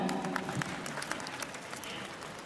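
An audience at a televised awards ceremony applauds in a dense, steady clatter of many hands, fairly distant and even, with a voice faintly audible within it.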